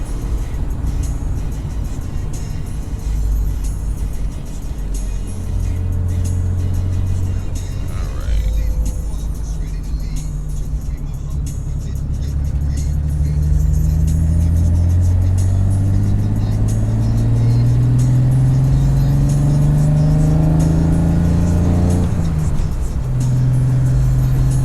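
A bagged BMW E30 driving, its engine droning steadily and rising in pitch as it accelerates through gears, heard from inside the car with road noise and someone talking over it.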